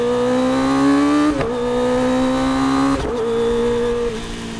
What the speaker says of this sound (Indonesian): Kalau pakai knalpot yang long begini, suaranya tuh bener-bener bulat, adem.